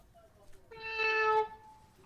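A pet cat gives a single drawn-out meow, clear and fairly close, rising and then fading, with a faint thin tone just before it in a quiet room.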